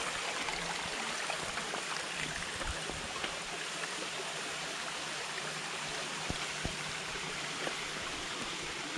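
The Thanh Long mountain stream at Núi Cấm, An Giang, Vietnam, rushing in a steady broadband wash of flowing water, close and continuous with no pauses or voices.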